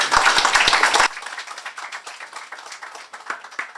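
Audience applause at the public unveiling of the Carriacou underwater sculptures: a full, loud burst of clapping that drops suddenly after about a second to thinner, scattered claps that keep going.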